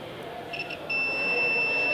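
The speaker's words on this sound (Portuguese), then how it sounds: "Aquela que deu bip, pessoal, é aquela que está dando continuidade" A multimeter in continuity mode beeps while probing both ends of a wire: a couple of brief chirps, then a steady high-pitched tone held to the end, over faint room noise.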